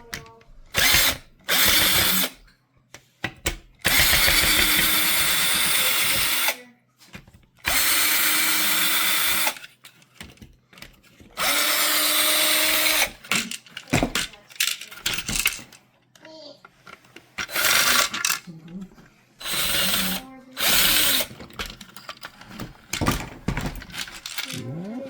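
A power screwdriver backs screws out of a small sewing machine being scrapped, in repeated loud whirring bursts of a few seconds each separated by pauses, with small clinks and some talk between runs.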